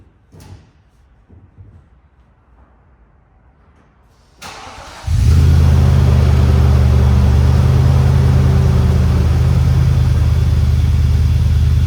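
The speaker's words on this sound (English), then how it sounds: "AVO catback cold start." A car cold-starts through an AVO catback exhaust: faint clicks and handling sounds in near silence, then a crank that catches into a loud, deep, steady idle rumble that holds to the end.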